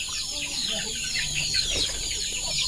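Chickens clucking amid steady background noise at a home where birds are being slaughtered and cleaned, with soft irregular calls spread across the whole stretch.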